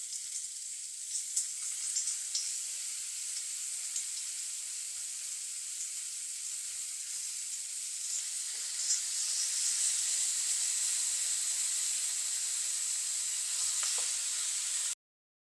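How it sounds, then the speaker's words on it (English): Chicken kebabs sizzle steadily in a multicooker grill pan, a continuous bright frying hiss with small pops, close and alone, with no voices. "I love that sizzle, and I love the smell already that's coming up off of these chicken kebabs."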